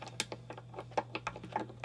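Old strings being snipped off a Gibson Hummingbird acoustic guitar while it is restrung, a run of sharp, close clicks in an uneven rhythm over a steady low hum, with no talking.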